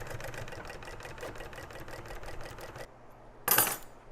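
A sewing machine stitches welting onto stretchy upholstery fabric with a steady, rapid mechanical chatter for a few seconds. It then stops, followed by a brief clack of handling, all close and moderately quiet.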